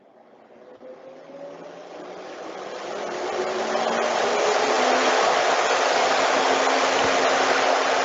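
A battery-powered brushless fan spins up to 2,500 RPM, its broadband whoosh and rising motor whine growing steadily louder over several seconds, then holding at a strong, constant roar.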